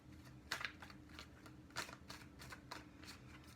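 Tarot cards are shuffled close up, a series of quick papery riffles and soft slaps repeating at an uneven pace, fairly quiet and without any voice.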